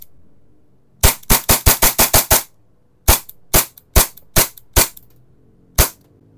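Test-firing of an airsoft gun: a rapid burst of about nine sharp snapping shots, then a slower string of single shots spaced roughly half a second apart, loud and close with no talking.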